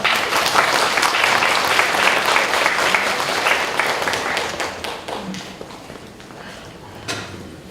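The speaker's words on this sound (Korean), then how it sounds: "큰 박수로 환영해 주시기 바랍니다" Audience applause in a university church Sunday service hall, welcoming a world tour speaker to the stage; dense sustained clapping that starts loud and gradually thins and fades, with a few scattered claps near the end.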